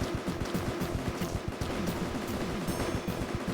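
Rapid gunfire from shooting fish in the mobile game Ridiculous Fishing, a dense, continuous rattle of quick shots running through the whole stretch at steady loudness.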